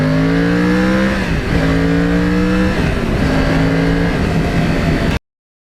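A Yamaha R1 with a cross-plane engine accelerates hard on a ride through northern New Jersey's lake area, its rising howl dropping briefly at each of several upshifts, loud and close throughout with no talking.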